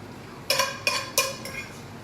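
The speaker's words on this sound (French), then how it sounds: "vous prenez pas une fourchette dans une poêle Tefal" Metal fork tines scraping and clinking against a Tefal frying pan: four short bright scrapes in quick succession, close up and clear with no talk over them.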